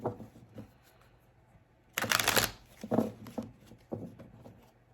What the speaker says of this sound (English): So let's do 3 more shuffles for Gemini.